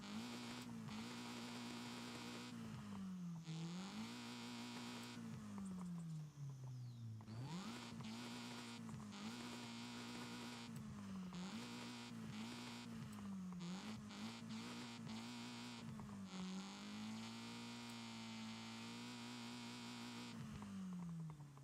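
A car fitted with a centrifugal supercharger in the Forza Horizon 5 video game, its engine note climbing and falling through repeated rev cycles with a steady whining hum over about twenty seconds, with no one talking.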